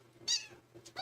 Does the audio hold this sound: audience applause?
no